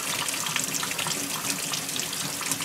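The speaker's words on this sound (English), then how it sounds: "you're going to rinse it and make sure you are wearing your gloves because you're going to have to touch this" Warm tap water streams steadily over an etched glass jar held under the faucet, a close, continuous splashing gush with no pauses and no voices.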